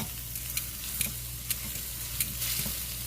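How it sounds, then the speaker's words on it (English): Beef sizzles and spatters in a hot pan while being cooked for smothered beef and broccoli, a steady close frying hiss broken by a few sharp pops from spitting fat. "Uh-oh, that one wanted to jump out the pan."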